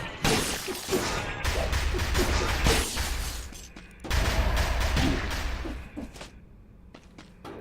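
Turrets in Dead Cells fire continuously at enemies amid dense, loud bursts of impacts and crashes, a chaotic barrage of game combat with brief lulls and a voice talking over parts of it.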